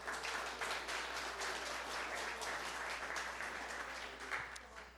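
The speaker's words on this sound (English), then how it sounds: "let's give a round of applause for Databricks" A meetup audience applauds a sponsor at a tech event, steady sustained clapping from many hands in a room, moderately distant and continuous for several seconds.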